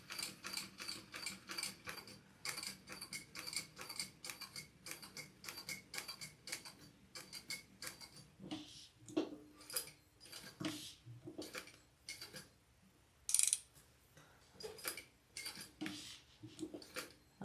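A sewing machine stitches black fabric for a crossbody bag, making quiet, rapid mechanical clicking and rattling in irregular bursts with short pauses between runs.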